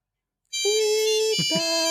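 An electronic phone ringtone bursts in after a moment of silence, a loud, bright, sustained synthetic tone with a pitch change partway through, used as a podcast feedback-segment sound effect.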